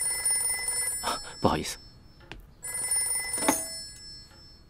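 A telephone bell rings in bursts indoors at a police station, with spoken voices between and over the rings.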